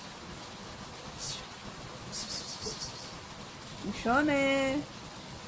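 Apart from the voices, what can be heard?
rain falling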